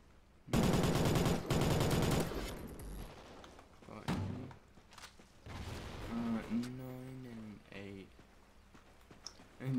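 Gunfire in Call of Duty Ghosts: a loud sustained burst at the start, then scattered single shots and game effects, with a player's voice talking over the later part.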